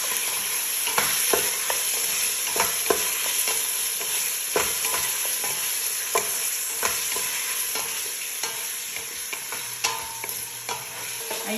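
Meat with ginger and garlic stirred and frying in a pan, a steady close sizzle broken by frequent scraping clicks of the spoon, no voices.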